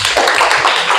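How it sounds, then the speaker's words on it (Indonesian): During a religious study session, listeners break into a brief burst of clapping. It is close and loud and lasts only about a second. "Tepuk tangan dong."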